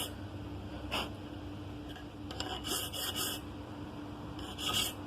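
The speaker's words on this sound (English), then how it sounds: "Again, just filing down to the scribe line." A hand file rasps across a dovetail joint being worked down to a scribe line, with several short, faint scraping strokes spaced irregularly and no talk.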